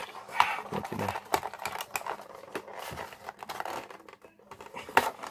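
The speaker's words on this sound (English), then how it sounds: "If I knew I would have had to do all this cutting, I would have sharpened this knife a little better" A knife cuts and slits through packaging on a mystery box, giving irregular close scraping, tearing and crinkling noises with sharp clicks in an uneven rhythm.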